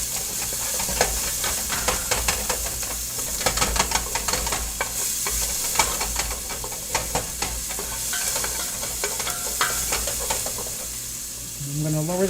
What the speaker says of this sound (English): add a touch more oil for the onions. Scrape all the brown stuff off the pan.